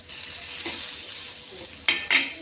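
A tomato roasting in a little oil in a pan, giving a steady close sizzle with a low hum underneath, then two sharp bursts of louder spattering near the end.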